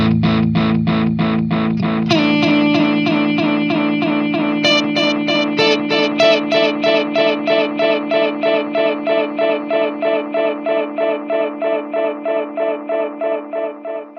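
A guitar note rings through the digital delay of a Hughes & Kettner Black Spirit 200 amp head, its repeats stacking and smearing with feedback, then pulsing in a steady rhythmic echo that slowly fades.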